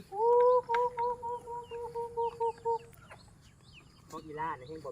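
A hen clucks in a quick run of short, loud, repeated calls, then softer chicken chatter and clucking close by.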